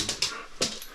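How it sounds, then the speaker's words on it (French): A dog whimpers and yips in short bursts while being taken outside, several brief high-pitched whines close by with no talking. "sortir le chien Saga avant de sortir nous-mêmes de son appart"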